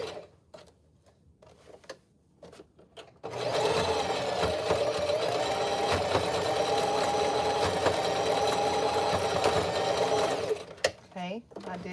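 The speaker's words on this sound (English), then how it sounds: "and we're sewing the cap." A sewing machine stitches a wig cap, its steady motor whir and needle clatter starting after about three seconds of quieter handling noise and running continuously until near the end.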